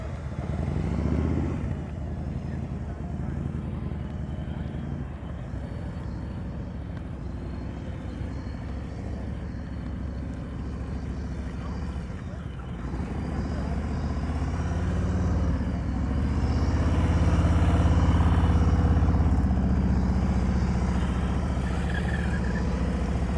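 A Harley-Davidson Fat Boy motorcycle rolls along at slow speed during a riding practice session, its engine a steady low rumble that swells louder toward the end, heard alone without talk.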